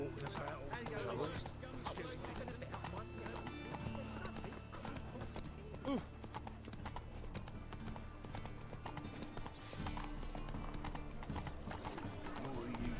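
In The Witcher 3, the horse Roach runs with quick, rhythmic clip-clopping hooves that continue throughout, broken by a short whinny, all set against game ambience.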